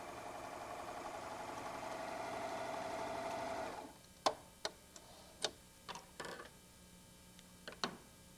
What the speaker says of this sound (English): We'll place it right under our Superlock and continue stitching.